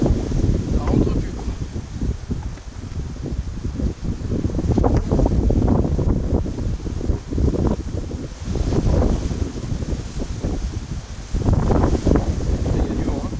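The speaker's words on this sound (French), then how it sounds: "Il y a du vent, hein." Gusty wind buffets the microphone in loud, uneven bursts, rising and easing repeatedly over several seconds, outdoors at a beehive.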